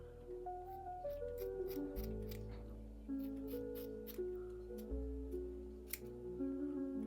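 Repeated sharp snipping clicks of scissors cutting wig hair, close and crisp, over a steady low hum, with no talking.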